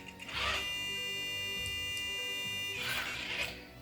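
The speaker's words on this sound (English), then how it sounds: "it sounded an alarm with the piezo buzzer" Piezo buzzer alarm on an Arduino rover with a cliff sensor, sounding as a sustained high-pitched electronic tone with two louder bursts at the start and end, alone without speech.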